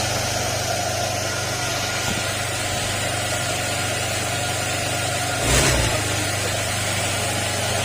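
A Honda Click motorcycle engine, often driven through floods, idles steadily with a constant low drone and throb, briefly surging in a short rev partway through.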